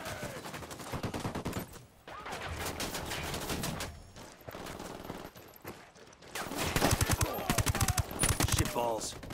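Gunfire rattles through a firefight in Tom Clancy's Ghost Recon Wildlands, repeated bursts and shots at moderate level, mixed with game dialogue and shouting voices.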